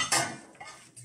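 A plate is set down on a table beside cured Iberico ham being sliced, giving a sharp ceramic clatter near the start followed by a couple of softer knocks, close and fairly loud.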